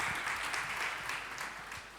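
A church congregation applauding during a worship service, a steady wash of clapping from a crowd, moderately quiet and continuous, with faint voices.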